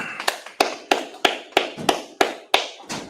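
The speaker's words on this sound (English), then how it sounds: "let's clap it up" Scattered claps from a small audience at a Wednesday night scripture breakdown class, about ten sharp, evenly spaced hits that sound more like slow tapping than full applause.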